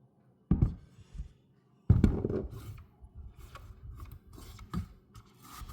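A knife chops the ends off a large butternut squash on a cutting board, two sharp close thuds followed by quieter scraping and tapping as the pieces are moved.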